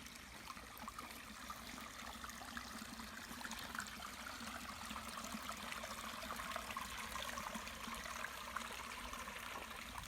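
Cold water runs steadily at an old well site in the abandoned town of Old Cahawba, a continuous close rushing and trickling with no voices.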